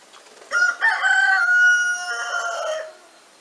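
A big rooster in a French village crows once, a loud, close, drawn-out call with rising and falling harmonics lasting about two and a half seconds, heard alone against a quiet background.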